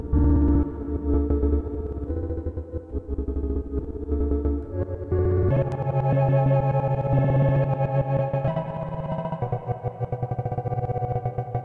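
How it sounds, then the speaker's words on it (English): Sampled sound played from an instant sampler, its release changing over time under an LFO, drenched in reverb with a distorted, chorused, effect-laden character; loud layered tones shift and swell across the passage with no talking. "Definitely got to add some reverb to that."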